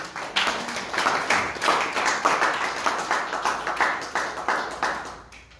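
A church congregation claps together in a steady, rhythmic beat during a worship service, the claps loud and sustained for several seconds with no talking.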